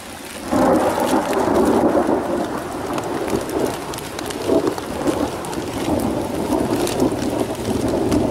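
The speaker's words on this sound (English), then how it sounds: "we've been hearing some really loud thunder" Steady, heavy rain pours down onto a tarp outdoors, with deep rolling thunder rumbling underneath throughout, loud and continuous.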